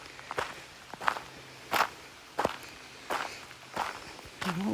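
Footsteps crunching on gravel while walking downhill outdoors, about eight evenly spaced crisp steps, close and moderately loud over a quiet background of faint running water.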